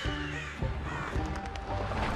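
Crows in the video game Tearaway Unfolded caw loudly and repeatedly over dense game music and sound effects for a couple of seconds.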